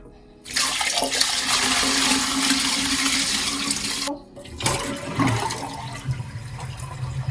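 Bathroom toilet flushed after cleaning, a loud close rush of water lasting several seconds, a brief break, then another surge of swirling, gurgling water.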